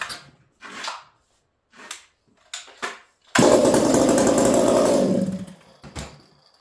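An MS460 chainsaw on a heat cycle after its first start: several short pulls and sputters, then a loud, sustained high-revving run for about two seconds that cuts off, followed by a brief final burst.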